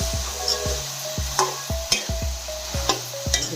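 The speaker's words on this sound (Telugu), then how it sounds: "ఇప్పుడు బాగా కలుపుకోవాలి కింద మీదకి" Brinjal curry with onions, green chillies, ginger and garlic stirred in a pan: a rhythmic series of spoon scrapes and knocks, roughly two per second, over a soft sizzle, close and moderately quiet.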